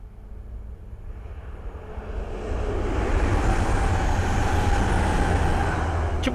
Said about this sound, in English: I think we've got two trains passing through